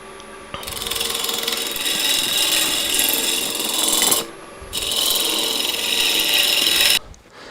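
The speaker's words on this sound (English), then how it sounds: "I got my lathe up around about 1200 at the moment." A wood lathe spins a big chunk of wood at about 1200 rpm for a yarn bowl, giving a steady broadband scraping and rasping hiss as the tool cuts. The noise cuts out briefly in the middle, then resumes before stopping.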